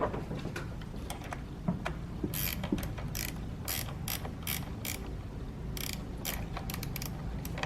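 Ratchet wrench clicking in quick repeated bursts while tightening the battery terminal clamps on a Mitsubishi Mirage G4, close and fairly quiet over low background noise.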